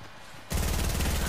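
Gunfire in a shooting video game starts abruptly after a quiet moment, a loud continuous rapid burst of shots.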